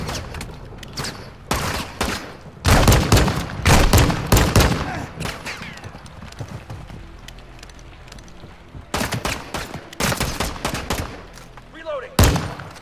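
Repeated bursts of automatic gunfire and shots in Call of Duty: Modern Warfare II, clustered volleys with gaps between, loud and close, with voices talking over the combat.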